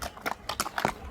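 Horses at a Kyrgyz horse market, where horses are brought for sale, give a few brief, uneven hoof clip-clops at close range over a quiet background.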